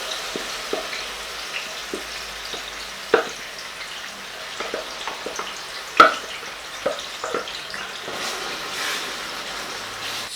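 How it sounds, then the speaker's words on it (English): Paste of tomatoes, onions, ginger and garlic frying in hot oil, a steady sizzle with scattered spoon scrapes and clicks and a sharp clatter near the middle. Nobody speaks. "Now to the oil, I want to add the paste that I've made."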